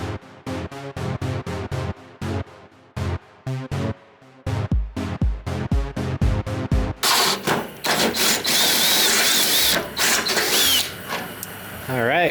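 A power drill bores a hole through a metal part on a snow blower. It runs in short, stop-start bursts, then in one long continuous stretch, close up.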